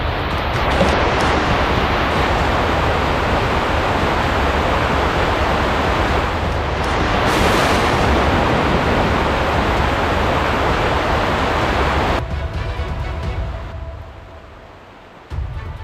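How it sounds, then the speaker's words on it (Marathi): Heavy rain and strong wind lash the wooded hilltop of Mangad fort during a trek, a dense roaring wash that holds steady, then drops away sharply near the end. "खूप जास्त जोराचा पाऊस आहे,"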